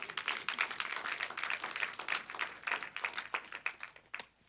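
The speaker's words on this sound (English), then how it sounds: "Yes, we can clap if we're excited about that." A church congregation claps together during a sermon, a dense, steady patter of many hands in a large room that thins out near the end.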